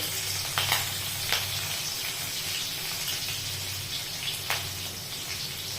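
Green chilies hit hot oil with a steady, moderately loud sizzle and crackle, broken by a few small pops and spatters.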